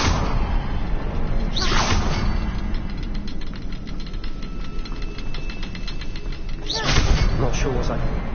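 Two big bursts from a Confringo blasting spell in a video game, one near the start and one later. Each is a broad whooshing explosion over constant rumbling game ambience, with faint rapid ticking between them.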